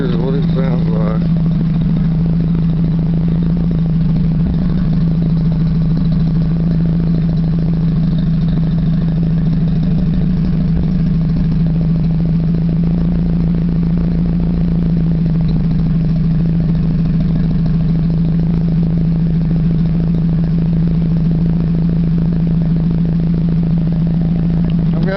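Nissan Hardbody pickup with a Flowmaster exhaust and Edelbrock air cleaner idling, recorded right at the tailpipe: a loud, steady low rumble with an even throb throughout, alone without talk.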